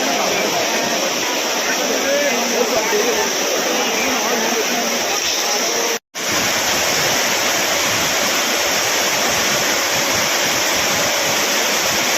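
Courtallam waterfall pours in a loud, steady broadband roar, close and unbroken except for a brief cut midway, with no voices standing out above the rushing water.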